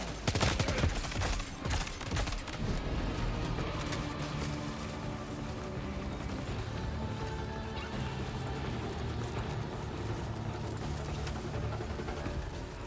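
Rapid turret gunfire from the video game Death Stranding 2, a loud burst of dense, crashing shots at the start that settles into a sustained, busy barrage of game combat noise.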